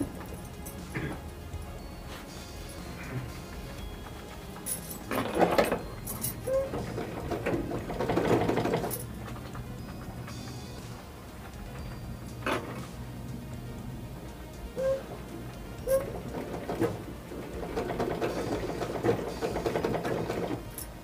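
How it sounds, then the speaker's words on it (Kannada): Sewing machine stitching a shoulder-cut blouse, running in uneven rhythmic bursts with clicks and pauses as the fabric is guided, close and moderately loud, with a little soft talking. "ಈಗ ಇದನ್ನು ಹೊಲಿಗೆ ಹಾಕೋಣ."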